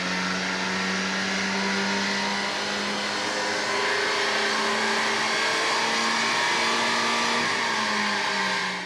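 Honda Civic Type R FL5 with a K&N drop-in intake filter running hard on a dyno in a dyno cell, a loud sustained engine drone with a rising, slowly shifting pitch that holds steady throughout without speech.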